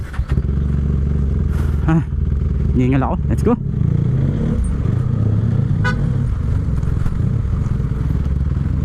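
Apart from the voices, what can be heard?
motorcycle riding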